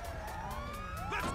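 A police siren wails in GTA Online, its pitch sweeping up and down loudly and continuously over game engine rumble.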